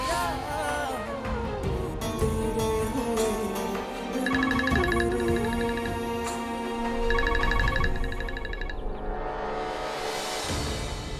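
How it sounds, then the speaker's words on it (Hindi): A phone ringtone trills in two repeated bursts over background music, with faint voices around it. "घर से फोन आ रहा है"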